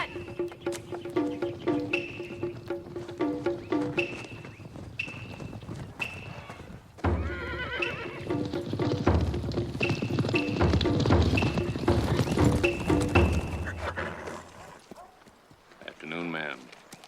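Hooves clip-clop steadily at a walk under background music and movement, with a horse's whinny rising near the end.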